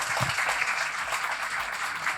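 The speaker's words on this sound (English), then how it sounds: "from the big round of clapping to him." An audience gives a big round of applause at a gathering congratulating Saurav, a future civil servant. Dense, steady clapping fills the whole stretch with no voices over it.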